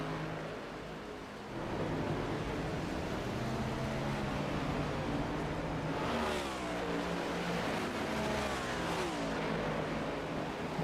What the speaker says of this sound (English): Oh, we got a car around on pit road.